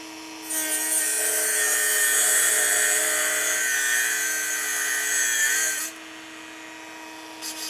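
Dremel rotary tool cutting into a throttle lever part, a close, loud high-pitched grinding whine that rises as the bit meets the material, holds for about five seconds, then drops away to a lower idle hum.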